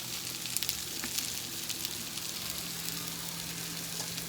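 Pork and vegetables fry in olive oil in a pan, giving a steady, even sizzle with faint crackles throughout, close and unbroken, with no voices.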